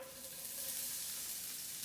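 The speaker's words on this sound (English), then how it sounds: "You hear that sizzle? No sweeter sound." Yellow onion sizzles in about two tablespoons of olive oil over medium-high heat, a quiet steady crackle and hiss with no talking.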